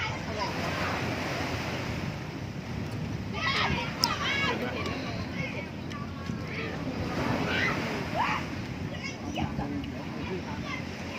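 Sea waves wash onto a beach, a rolling surf roar mixed with gusty wind buffeting the microphone, with a few faint distant voices and bright splashes over the steady wash.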